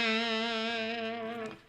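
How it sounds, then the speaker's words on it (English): Electric guitar by PJD played through a tube amp and drive pedals: one sustained, overdriven chord rings steadily for over a second, then cuts off abruptly, with no voices. "But now I'm hearing it through tubes and drive pedals."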